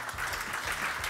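An audience applauds a speaker on a topic about motorcycle dealers, a dense, steady burst of clapping from many hands, close and continuous.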